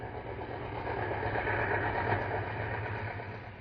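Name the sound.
Santa Fe diesel passenger train leaving Dearborn Station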